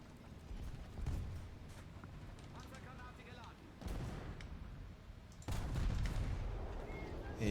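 Tank cannon fire from a Panther D in a tank battle video game, with booming shots and rumbling blasts at irregular intervals over steady engine and battle noise, loud and close.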